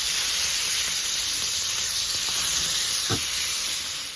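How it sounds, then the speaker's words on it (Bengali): Fish frying in oil on a flat tawa gives off a continuous, loud sizzling hiss that stays steady throughout. No voices are heard. "একটা সাইড ভাজা হয়ে গেছে, এবার আমি আরেকটা সাইড ভাজবো বলে উল্টিয়ে দিচ্ছি।"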